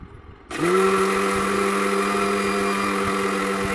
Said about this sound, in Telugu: ఇంకా నేనైతే మిక్సీ పట్టేస్తున్నాను